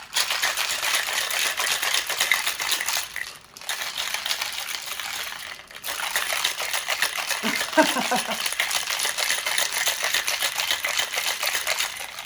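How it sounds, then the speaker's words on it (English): Ice rattles hard and fast inside a cocktail shaker, a steady clattering rhythm with two brief pauses, loud and close. "I honestly just like shaking it hard enough that some of the ice breaks off in there."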